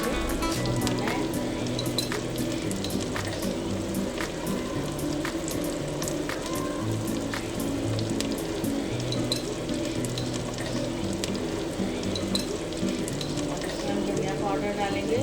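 Chicken changezi sizzles steadily in a pan over a high flame, with a continuous frying hiss and occasional clinks of a utensil, and a voice talking faintly underneath.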